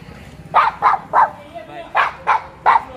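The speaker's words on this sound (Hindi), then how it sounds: "वो बेचारा दोनों इतने शांत है, यही भौंके जा रहा है बस अकेले" A pet dog named in Hindi chatter barks repeatedly outdoors during a walk, six sharp, fairly close barks in two quick groups of three, over a soft background hum.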